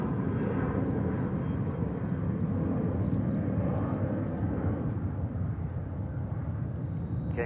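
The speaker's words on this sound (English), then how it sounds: "Canarsie approach, Atlas Air 747-400 coming in from Anchorage in Alaska." An Atlas Air Boeing 747-400 on approach to land at JFK airport roars steadily and loudly from fairly close, a dense continuous rumble with a faint high whine, and no voices.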